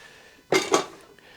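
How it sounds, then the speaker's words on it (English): Rock tumbler lid being washed to rinse off grit: two short, bright clattering splashes of water and hard-lid handling close by, followed by quiet, no voices. "I like to wash the lid off right away."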